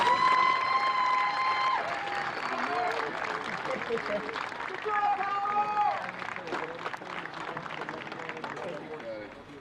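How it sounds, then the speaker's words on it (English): Crowd applause and cheering for the Palomar Comets at a California community college softball championship, a dense wash of clapping with whistles and shouts that gradually tapers off, with voices over it. "Give a round of applause one more time for the Palomar Comets"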